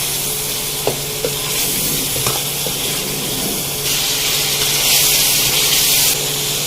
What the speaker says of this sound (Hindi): लौकी को मैं मसाले के साथ 2 से 3 मिनट तक भूनूंगी पहले